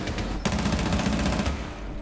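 Sustained automatic gunfire in Rainbow Six Siege, a dense rapid burst running for about two seconds at close, loud range with a brief sharper shot in the middle and no talk.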